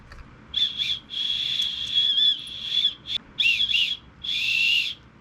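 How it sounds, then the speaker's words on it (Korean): An emergency whistle from an earthquake preparedness kit is blown in several shrill bursts of varying length, close and piercing, with brief pauses between blasts and a long final blow. "호루라기"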